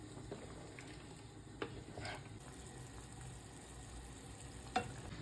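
Pilaf seasoning and salt are stirred into food in a pan, giving a soft continuous sizzle with occasional scraping strokes and one sharp clink near the end, quiet and close.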